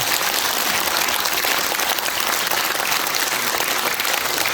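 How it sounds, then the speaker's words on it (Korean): Dense, steady applause from a large audience at a Korean poetry recitation festival, a continuous wash of many hands clapping at even loudness throughout, with no voices rising above it. "여러분, 이분들에게 따뜻한 격려의 박수 보내주시기 바랍니다."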